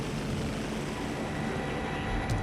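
A rescue helicopter powers up for takeoff, its dense, steady rotor and engine roar filling the air loudly and continuously from start to finish.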